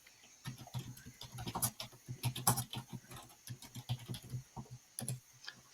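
Fingers tap quickly and steadily on a computer keyboard, producing quiet, close clicks in irregular bursts with no talking.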